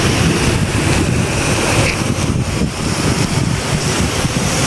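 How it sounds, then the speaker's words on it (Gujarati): Floodwater rushes over a bridge on Rangpur road near Jesingpara in Amreli after the first rain. A loud, constant roar close by is mixed with buffeting wind on the microphone, and no voices are heard. "અત્યારે પાણી સારું આવે છે"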